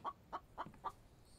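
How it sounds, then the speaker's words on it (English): A chicken in the survival game The Infected clucks four times in a steady, evenly spaced rhythm. Each cluck is short and clear over quiet in-game background ambience. "there's the chicken in our house"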